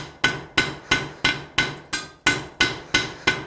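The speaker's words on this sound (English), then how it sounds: "I'm not running my hammer all over my anvil." A hammer strikes hot steel on an anvil while forging a fire poker, about ten sharp ringing blows in a steady rhythm roughly a third of a second apart, loud and close, each decaying quickly.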